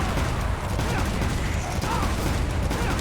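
Shotgun fire in the Devil May Cry 5 video game during Mission 10: dense, loud blasts and mechanical clatter follow one another rapidly within a busy, continuous wash of game noise.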